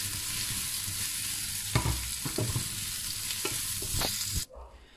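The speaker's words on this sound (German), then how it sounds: "Zu den angebratenen Zwiebeln gebe ich jetzt die Auberginen wieder zurück und brate das Ganze noch 1 Minute zusammen mit." Aubergines and browned onions fry together in a hot pan, a constant close sizzle punctuated by scraping stirs and utensil knocks, then the sound cuts off abruptly near the end.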